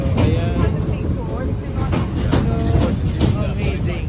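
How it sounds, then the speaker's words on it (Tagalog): A train rumbles past behind a riverside spot in London, with a steady loud roar and faint rhythmic wheel clatter beneath a person talking nearby. "So, nandito yung tren sa likod."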